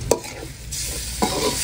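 Tomatoes sauté in a pan, a close, soft sizzle with two sharp spatula scrapes about a second apart, and no talking.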